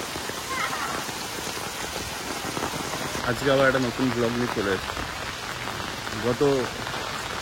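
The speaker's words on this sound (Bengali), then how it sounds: "বৃষ্টি এখনো ক্রমাগত হয়ে যাচ্ছে" Heavy, continuous rain patters and hisses steadily on surfaces throughout, with a person talking over it in the middle and near the end.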